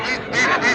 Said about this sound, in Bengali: আর একদম খাঁটি ক্যাম্বেল হাঁস।